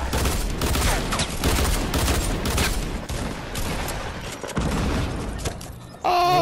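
Rapid rifle fire from a thermal-scoped hitscan weapon in the Fortnite video game, a dense volley of loud sharp shots with booming impacts that thins out toward the end before a tonal game sound cuts in.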